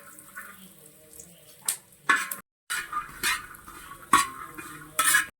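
Peanuts being roasted and stirred in a pan, heard as scattered metallic scrapes and clinks of a spoon against cookware, a few louder strokes separated by quiet gaps, close by and with no talking.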